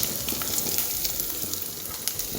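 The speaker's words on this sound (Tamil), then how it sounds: "இந்த இஞ்சி நல்லா வாசனை வர வரைக்கும் நம்ம வதக்கிடுவோம்" Ginger sizzles and crackles in hot oil in a pan, a steady close frying hiss with small pops throughout, no voices.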